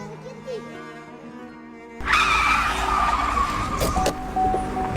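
A car brakes hard and its tires skid and squeal to a stop on a road, the loud scraping swelling in after a quieter start and running for several seconds.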